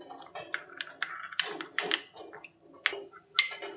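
A spoon stirs two spoonfuls of custard powder into cold milk in a small bowl, giving a run of close, irregular clinks and scrapes against the dish with short pauses between strokes.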